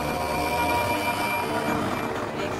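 A small plane patched up with duct tape flies past, its engine giving a steady, loud droning roar that holds throughout with no voices.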